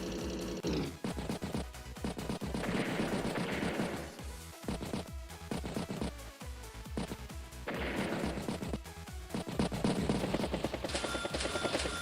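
Neo tank cannon fire and impact blasts in the Advance Wars strategy game, a dense run of loud crashes and bursts layered over continuous game music, with no talking.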